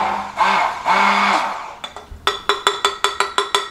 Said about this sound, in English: So we have our dressing, and I'm just going to blend it. I use a stick blender.